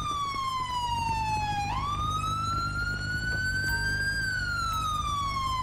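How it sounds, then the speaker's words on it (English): A police siren left running in GTA 5 with the LSPDFR mod during a military patrol, a loud continuous wail that sweeps slowly down, then climbs back up and holds, over a low engine rumble, with no voices. "Man, you left your siren on."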